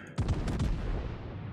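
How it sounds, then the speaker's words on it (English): Heavy naval gun salvo from battleships in World of Warships, several deep booms fired in quick succession at close range, followed by a rolling low rumble. "I'm gonna guess that was a wasted salvo"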